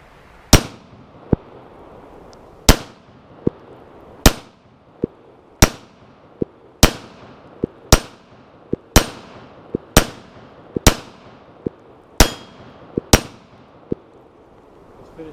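A Kel-Tec PMR-30 pistol fires about a dozen sharp shots, each followed closely by the ringing clang of a round striking a black steel plate. The shots come in an uneven but steady rhythm, loud and close, with no talk.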